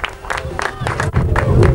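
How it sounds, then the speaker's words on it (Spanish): Applause and cheering break out at a championship award ceremony: quick bursts of clapping mixed with crowd noise, while people talk nearby. "Los aplausos."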